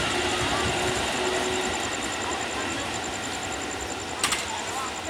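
Striped KRL commuter train passing on double track near a former Jatinegara depot, a steady close roar of rolling carriages with a faint high whine, and a brief sharp clatter near the end.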